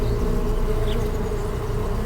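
Bees buzz in a steady, continuous drone that sounds close and fairly loud, with no voices over it.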